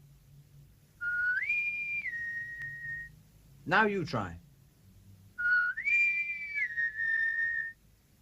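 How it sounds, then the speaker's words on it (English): A person whistles a rising note that holds steady, then after a short spoken line a second similar whistle follows, clear and close. "If you want the wind, you must whistle for the wind"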